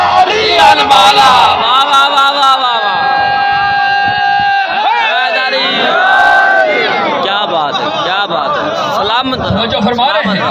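A packed majlis crowd of mourners on 10 Muharram chants slogans in loud, massed unison, repeated surging shouts close and filling the space, with a hall-like echo.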